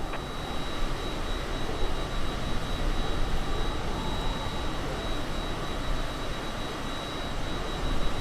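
Cessna Citation CJ4 jet engines in MSFS 2020, a steady dense roar with broadband rush and a thin high whine, continuous and even throughout, no voices.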